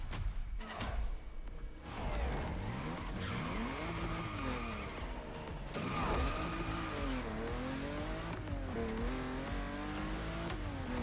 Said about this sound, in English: But this car sounds good.